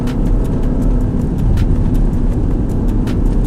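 A Maserati MC20 supercar powering out of a track corner, a loud steady low engine roar held throughout, with light rattling clicks on top.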